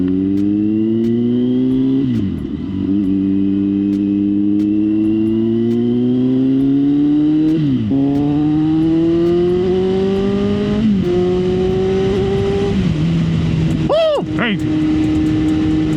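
A Kawasaki Z900 with a Leo Vince exhaust and airbox removed rumbles close by, revving up and down several times with sharp throttle blips, over faint background chatter.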